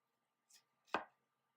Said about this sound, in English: so you cut your tomato